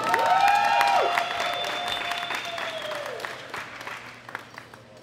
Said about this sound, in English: Big round of applause for Daniela Melo.